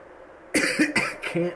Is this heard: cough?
yes